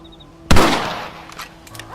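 A single loud rifle shot from the Red Dead Redemption video game cracks out sharply, then decays into a lingering rumble and faint after-echo, with no one speaking.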